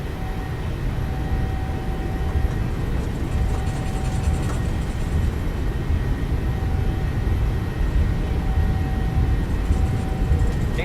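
Twin engines of a PMDG 737 at takeoff thrust in Microsoft Flight Simulator 2020, a constant heavy roar with a thin whine riding on top, loud and unbroken from start to finish.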